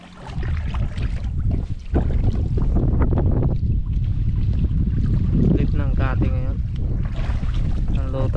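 Blustery wind buffeting the microphone in heavy low gusts, with voices talking intermittently over it.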